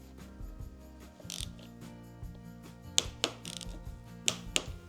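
Torque wrench being set and tightened on the front end of a Beta RR350 dirt bike, giving a few sharp mechanical ratchet clicks near the end amid low shop hum, with no speech.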